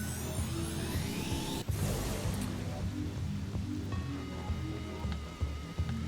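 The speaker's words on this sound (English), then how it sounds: "I really like rain effects." Steady hiss of rain falling on surfaces in the Smuggle Craft video game, a dense continuous patter with a brief whoosh near the middle, heard alone at a fairly constant level.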